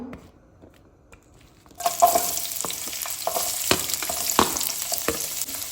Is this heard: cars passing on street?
no